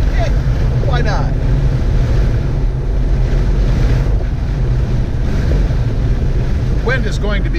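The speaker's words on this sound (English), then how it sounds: "it is so windy outside" Strong wind roars steadily across the microphone outdoors beside a Toyota Tacoma, a loud, constant buffeting rush with faint voices briefly audible.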